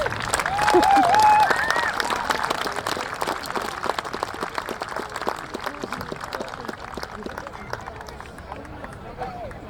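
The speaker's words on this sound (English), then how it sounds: "Let's give a big round of applause for the Keith Highlanders" An outdoor crowd at a Scottish festival applauds the Keith Highlanders pipe band, with steady clapping and scattered cheers mixed with crowd noise and chatter, a brief whistle-like tone early on.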